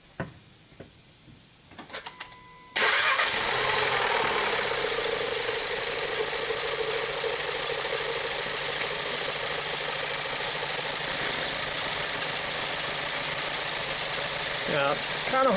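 A 2014 VW Jetta with a cylinder misfire (P0304) cranks and starts after a few quiet clicks, then runs loudly and steadily up close with a rough, shaking idle.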